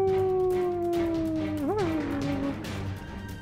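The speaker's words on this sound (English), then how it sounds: "And there's more howling in the forest." A long, drawn-out howl in a forest holds a steady tone, then wavers and bends before fading. It is clear and sustained over a low background rumble.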